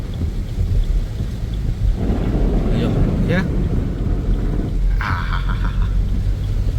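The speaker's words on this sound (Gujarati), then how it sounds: "જોઈ લે પાણીનો અવાજ તમને સંભળાતો હશે" Floodwater rushes in a deep, constant roar under heavy rain in Junagadh, Gujarat, with a few brief voices and faint tones rising above it.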